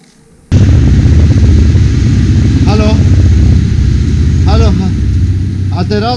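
A motocross motorcycle engine fires up abruptly and settles into a loud, steady, rumbling idle close by, with voices talking over it.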